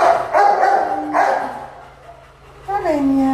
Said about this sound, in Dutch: Ze zit hier tussen de Staffords en die blaffen tussendoor.